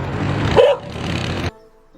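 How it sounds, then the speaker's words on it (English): A dog gives a single loud, close bark followed by a short second yelp, then silence. "Dogs bark, appropriately or not, for many different reasons."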